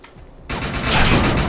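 Rapid burst of gunfire in the shooter game Defiance 2050, a quiet lead-in then a sudden loud, dense volley of shots that keeps going without a break.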